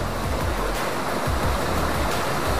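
Roughly 30-metre-high waterfall above a village, a loud, continuous rushing roar of falling water heard up close with no one speaking.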